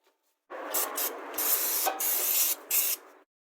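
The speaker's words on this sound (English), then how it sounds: "I use brake cleaner." Brake cleaner hisses from an aerosol can onto new painted brake parts for a Mitsubishi Space Star, a loud close spray lasting nearly three seconds with a few brief breaks in the stream.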